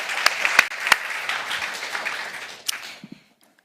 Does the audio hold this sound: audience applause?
yes